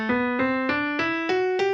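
Six steady harmonic notes climb step by step up a major scale, each sounded separately at an even pace, clear and alone with no voice.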